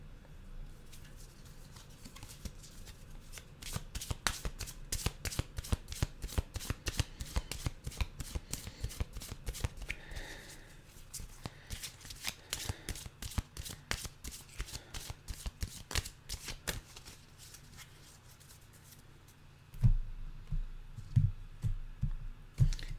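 A deck of animal oracle cards being shuffled, with quick runs of crisp riffling flicks in bursts separated by brief pauses, close and fairly quiet, ending with a few soft taps and thumps.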